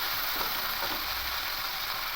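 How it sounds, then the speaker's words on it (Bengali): Potatoes frying in a pan, a dense, even sizzle filling the whole stretch, loud and close with no talk. "প্রথমে আলুগুলো দিয়ে একটু ভাজা ভাজা করে নেব"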